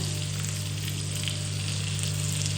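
Fish roast frying in a pan with non-veg masala, a steady, close, continuous sizzle with a low hum beneath, no talk.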